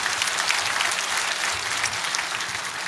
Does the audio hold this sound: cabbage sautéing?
no